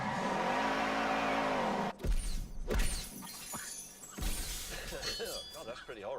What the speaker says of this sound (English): Donuts are good in this car.